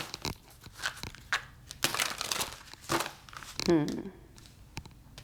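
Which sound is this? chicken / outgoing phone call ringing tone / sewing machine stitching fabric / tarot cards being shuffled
tarot cards being shuffled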